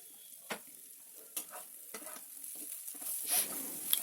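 Ivy gourd fry with curry leaves being stirred in a pan, with a spoon scraping in several separate strokes over a quiet, steady sizzle of oil.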